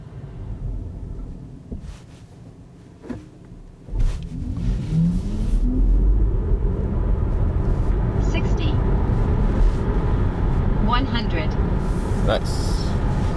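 A VW ID.3 GTX Performance electric car accelerating hard on a straight, with low road and wind rumble swelling sharply partway through and holding loud, plus faint tonal whines near the end.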